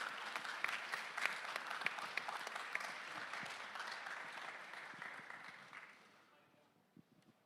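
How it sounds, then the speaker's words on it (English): A conference audience applauds at the close of a security hacking event, a dense, steady wash of many hands with a few sharper claps, fading out over the last seconds. "Big round of applause for them again."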